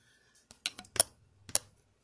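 A knife cuts baked cinnamon logs into thirds, giving a few sharp, close clicks and crisp crunches spaced unevenly against a quiet kitchen background.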